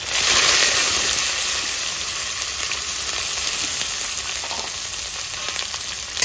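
Chopped onions hiss and sizzle steadily in hot oil already seasoned with bay leaves, dried red chillies and whole cumin, a close continuous frying sound with no voices, in a rustic fish curry preparation.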